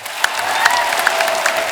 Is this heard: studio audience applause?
yes